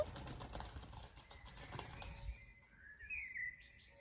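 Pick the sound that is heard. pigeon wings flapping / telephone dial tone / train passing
pigeon wings flapping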